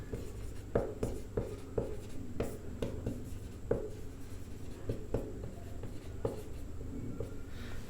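Pen or chalk writing out a Class 10 maths solution by the elimination method, with a series of distinct scratchy strokes and taps in an uneven rhythm, close and fairly clear, with no talking.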